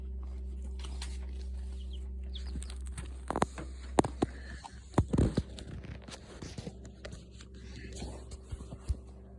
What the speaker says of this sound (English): This is the Andalusian hen.